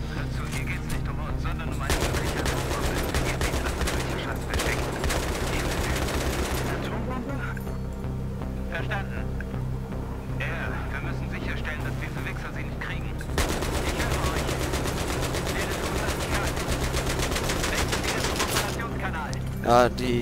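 Sustained automatic gunfire from a mounted weapon in Battlefield 3, rattling loudly and continuously before briefly pausing and resuming, building until the gun overheats, with battlefield noise throughout.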